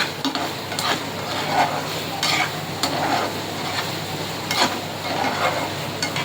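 Boti (offal) fry stirred in a pan, a loud, close sizzle with repeated scraping and clinking strokes of a spoon against the metal, steady and rhythmic, with no talking.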